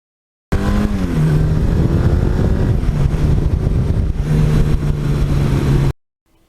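A 1982 Suzuki GS1100E motorcycle engine idles up close, then climbs through a brief rev. It drops back to a steady, throbbing idle and swells again briefly before cutting off abruptly.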